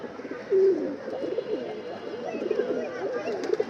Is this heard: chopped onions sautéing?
no